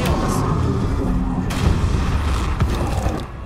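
Expelliarmus spell blast in the video game Hogwarts Legacy, loud booming impacts over a dense, rumbling battle din during the Rookwood boss fight, with sharper bursts near the middle and end.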